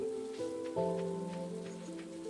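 Rain falls steadily in the farming game Stardew Valley, a soft continuous patter beneath a gentle tonal music bed, with no voices present.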